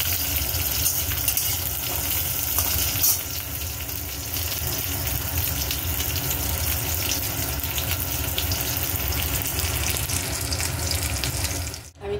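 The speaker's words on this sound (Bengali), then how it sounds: "বেশি ভাজবো না ক্যাপসিকাম।" Capsicum fries in hot oil in a pan, giving a steady loud hiss and sizzle close by. The sound runs almost unbroken for the whole stretch, with no talking.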